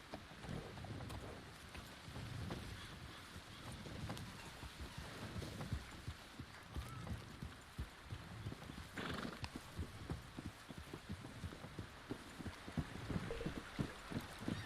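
Horse hooves clip-clop steadily while riding in the Red Dead video game, a continuous rhythmic patter of close footfalls over faint wind, with an occasional whinny.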